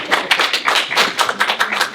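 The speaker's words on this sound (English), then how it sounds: "Round of applause, everyone." A round of applause from a small group gathered in a room: a short burst of scattered, uneven hand claps, fairly close and alone.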